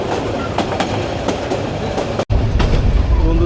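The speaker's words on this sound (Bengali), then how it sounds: "একা শুধু যে ট্রেনটি দেখেন লোকালের মতো চলছে" A local train between Dhaka and Kishoreganj rolls along with a loud, steady rumble and rhythmic clickety-clack of wheels, briefly dropping out before resuming heavier and closer.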